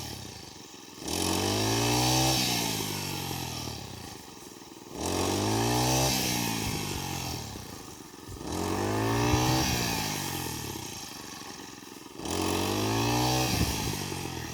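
A petrol engine-powered cutting machine, used for harvesting rice in a field, runs loud and close, rising in repeated surges roughly every three to four seconds and settling back to a rough idle between them.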